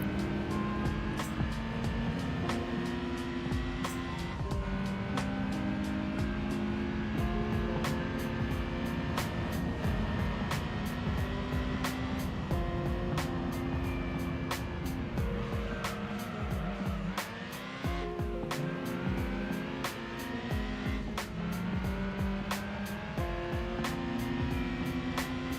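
A racing car driven in Gran Turismo 3, its engine note continuously rising and falling through gear changes with a steady droning whine, sustained and fairly loud throughout with a brief dip partway through.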